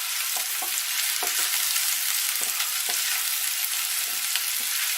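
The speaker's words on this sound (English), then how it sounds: "you want to get your garlic in with the garlic. Give that a little stir." Garlic fries in a pan with a steady, close hiss that continues for the whole clip, while occasional scrapes and knocks from stirring cut through it at irregular points.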